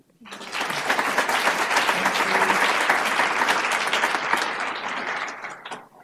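A keynote audience applauds to welcome a speaker onstage, a dense, steady roar of clapping that starts abruptly, holds for about six seconds, then tapers off.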